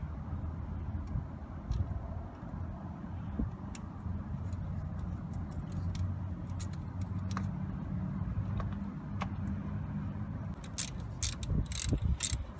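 A ratchet tightens a 13mm nut on a boat starter on a Malibu 2.4, steady rapid clicking at close range over a constant low hum, with a few sharper metallic ticks near the end.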